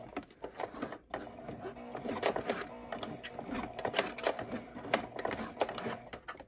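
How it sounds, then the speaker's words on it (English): Sewing machine stitching a cable-tie reinforced fabric face mask, a quiet rapid mechanical rattle with uneven bursts and brief pauses, no talking. "So then you're just gonna sew up."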